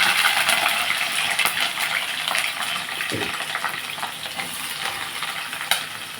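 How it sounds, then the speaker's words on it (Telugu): Onions and green chillies dropped into hot oil with fenugreek seeds, crackling in a steady loud sizzle throughout, with a few sharp pops and stirring clinks over the constant frying hiss. "ఆయిల్ హీట్ ఎక్కుతుంది మెంతులు వేసాను మెంతులు వేసిన వెంటనే మనం ఉల్లిపాయలు పచ్చిమిరకాయలు వేసేస్తున్నాం"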